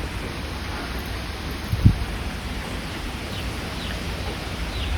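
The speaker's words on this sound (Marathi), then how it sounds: "चांगलाच पाऊस आलाय" Steady broadband rain hiss in a Marathi village, with a single brief thump partway through and a faint bird-like tone near the start, continuous and fairly even without voices.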